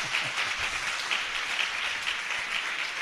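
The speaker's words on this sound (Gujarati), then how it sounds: "મોટા અવાજે તાળીઓ" A church congregation applauds in a steady patter of many hands clapping, moderately loud and sustained throughout without voices over it.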